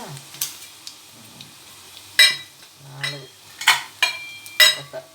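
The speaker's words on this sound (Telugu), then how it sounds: "ఇదిగోండి జీలకర్ర, మినపప్పు, ఆవాలు, ఎండుమిరపకాయలు ఇట్లా వేసుకోవాలి" Cumin, urad dal, mustard seeds and dried chillies hit hot oil, giving soft sizzling and crackling with a few sharp pops and clinks of a spoon against the pan, fairly quiet and close.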